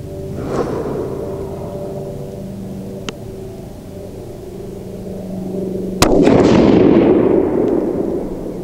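Rifle shots from a TC Compass firing Hornady 150-grain soft point loads: one sharp shot near the start, a faint crack in the middle, and a loud blast near the end whose echo dies away, over steady outdoor background hum.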